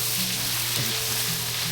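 Fish frying in hot oil in a pan gives a steady, close sizzle with a dense crackle that stays even throughout and has no voices over it.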